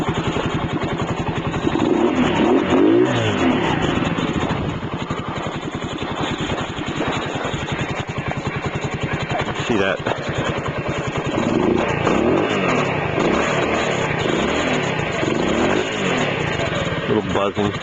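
A CT70 clone minibike's small engine runs steadily close by, rising in a couple of short revs around the middle before settling back to a buzzing idle, with someone talking over it.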